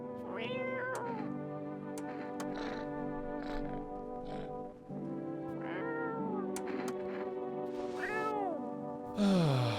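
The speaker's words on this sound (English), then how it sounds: "Cat's here." A cat meows repeatedly, close and clear, with several drawn-out rising and falling calls spread across the stretch and a louder, sharper cry at the end.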